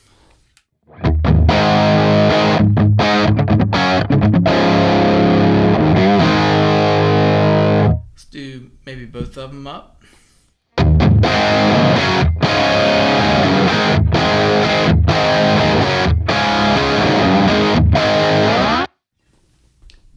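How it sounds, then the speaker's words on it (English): Loud distorted electric guitar chords through a Marshall amp ring out, cut off briefly while a voice speaks in the gap, then resume with crunchy, driven strums. "I like a Marshall to have bite and have mid-range and a little bit of presence to it"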